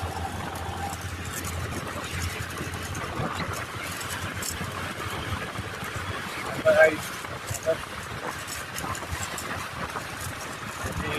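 A motorbike engine runs steadily during a ride on a jungle road toward Mahabaleshwar, its continuous hum blended with rushing wind noise at an even, close level.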